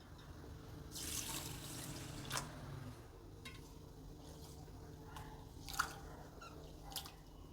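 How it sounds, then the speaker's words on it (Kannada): Rice being rinsed in water before soaking for idli gives soft, close sloshing and swishing with a few sharper splashes over a quiet, steady background. "ಅಕ್ಕಿನ ನೆನೆ ಹಾಕಬೇಕು ಒಂದೆರಡು ಸಲ ತೊಳೆದ್ಬಿಟ್ಟು ನೆನೆ ಹಾಕ್ತೀನಿ"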